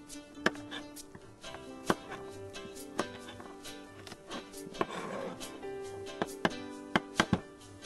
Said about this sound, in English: Then cut up a couple of carrots.